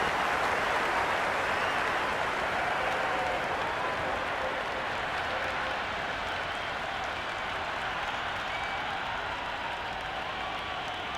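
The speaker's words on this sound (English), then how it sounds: "It's almost palpable, the excitement emanating from this crowd at the moment" A large stadium crowd in a cricket video game cheers and applauds in a continuous dense roar, loud and sustained throughout with no pauses.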